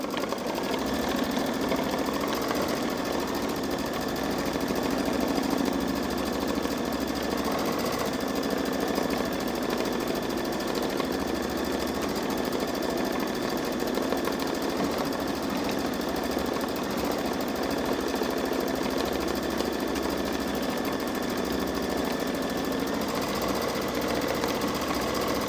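A Babylock Solaris Vision embroidery machine stitches out a drawn design with a fast, steady, unbroken mechanical whirr and needle chatter, close and constant throughout with no talk.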